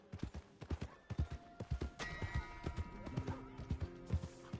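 Steady clip-clop of horse hooves close by, an even trotting rhythm with a faint whinny-like tone and ringing noise in the background.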